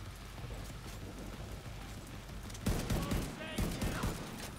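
Gunfire in the video game The Division 2 rattles in a dense volley of rapid shots, loudest after a short lull, with softer ambient game noise underneath.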